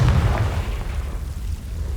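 A Confringo blasting spell explodes in Hogwarts Legacy, a deep booming burst at the start that rolls off into a low rumbling tail, loud and close with no voices.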